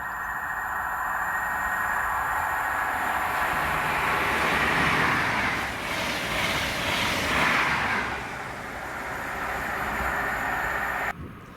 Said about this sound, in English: this is 1E78, the 2015 ScotRail service to Aberdeen from Glasgow Queen Street with 43055 and 43138.